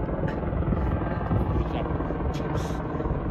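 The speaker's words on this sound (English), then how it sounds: "Helicopter rescuing Ricky." A helicopter thrums steadily overhead, its rotor chop loud and continuous throughout.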